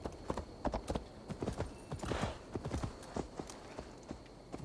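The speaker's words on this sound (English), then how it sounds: "Is that my horse?" Hooves clip-clop in a quick, uneven trot, close and fairly soft, with no talking, a horse in the video game Assassin's Creed: Valhalla.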